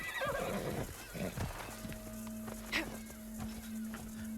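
In the video game Assassin's Creed Shadows, a horse gives a loud whinny near the start, then hooves clip-clop and soft snorts follow over a steady game ambience.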